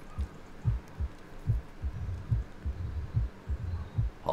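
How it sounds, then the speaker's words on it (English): Steady heartbeat effect from S.T.A.L.K.E.R. (OGSE Shadow of Chernobyl mod) during a sleep black screen: low, muffled double thumps repeating at an even pace, alone without talk. "Heartbeats, black screen."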